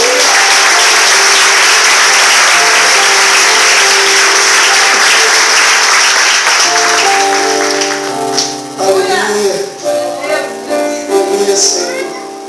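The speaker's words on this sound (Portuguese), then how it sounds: "Pode aplaudir Jesus por isso?" Loud, sustained applause from a large church congregation fills the room, then thins into scattered clapping with a few cheers and musical tones underneath.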